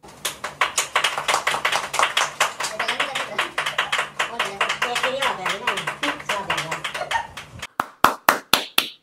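A group claps for a birthday in a busy, dense burst of applause under ongoing chatter, then breaks into a few loud, separate, sharp claps at the end.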